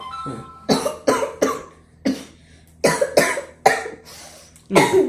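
A person coughs repeatedly and close up, a series of harsh, forceful bursts in irregular clusters with short quiet gaps between them.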